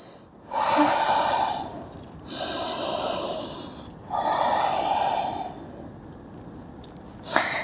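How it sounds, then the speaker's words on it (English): Deep, audible yoga breaths in a seated forward fold, three long slow cycles of airy inhales and exhales, close and rhythmic, with a brief click near the end. "2 more breaths in seated forward fold."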